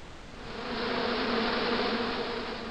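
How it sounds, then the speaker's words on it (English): Hornets buzz angrily inside a bush in the Broken Sword 2 video game, a loud, steady droning hum that swells slightly and holds without any voices. "Now I knew why that bush was buzzing."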